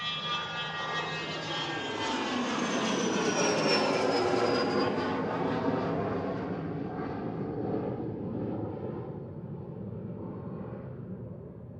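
A Boeing 757 at Manchester Airport rolls past with a loud, rising jet roar and a whining engine tone that sweeps in pitch. It fades slowly as the aircraft moves away, with no talking.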